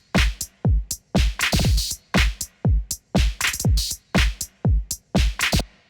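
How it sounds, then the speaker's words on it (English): Drum loop from an RSKT drum box in Ableton, punchy kick and snare hits with bright cymbal tails in a tight repeating groove, loud and dry with no talking. "We've got our RSKT drum box at the start."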